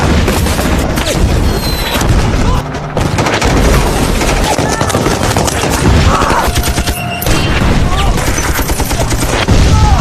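Gunfire in a film's assault on an Iranian base, loud continuous automatic bursts and shots with booming impacts filling the whole scene, with a narrator's voice talking over the battle.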